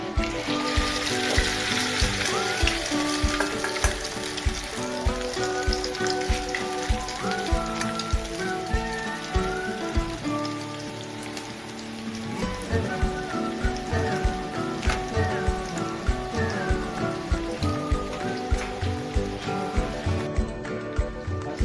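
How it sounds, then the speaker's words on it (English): Pancit canton noodle mixture frying in hot oil, a steady crackling sizzle with dense spitting pops running continuously and close, over faint background sound. "Once hot, pour the mixture in and make your fried pancit canton."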